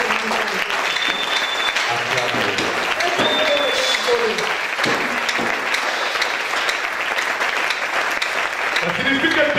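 Church audience at a sermon breaking into sustained applause acclaiming God, dense rapid clapping from a large crowd that carries steadily for the full stretch, with some voices mixed in.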